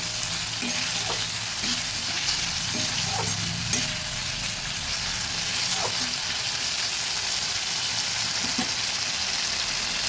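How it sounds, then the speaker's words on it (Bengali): Fish head and spices fry in a pan for katla murighanta, a steady close sizzle with scraping stirs of a spoon knocking the pan every second or so, and no voices. "মশলার সঙ্গে সব কিছু মিশিয়ে নেবো"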